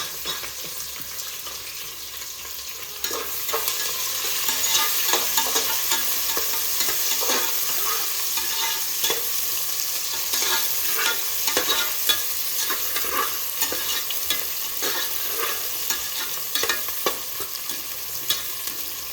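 Onions sizzling steadily in hot oil for chicken biryani, with repeated scraping stirs of a spoon across the pan over a continuous frying hiss, close and fairly loud, no talking.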